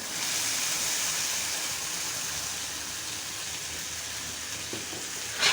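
Green peas tip into a spice paste frying in oil, giving a steady, loud broadband sizzle that hisses throughout with no voices, and a small bump near the end.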